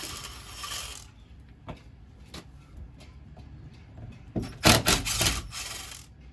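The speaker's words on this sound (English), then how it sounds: "So with the T50 Torx bit, I'm going to take off these 4" A T50 Torx bit backs out the screws on a Jeep driver's door, giving close scraping, grinding and ratcheting bursts that swell into a louder cluster toward the end, with no talking.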